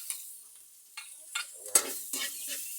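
Snails sautéed with garlic in a pan give a sizzle with intermittent stirring scrapes, a few sharp clacks standing out over a steady hiss, close and fairly quiet.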